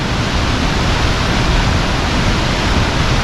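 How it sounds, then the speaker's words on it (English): Tumalo Falls waterfall pours in a steady, dense broadband roar, loud and close, with no voices or other sounds over it. "That is a textbook waterfall right there."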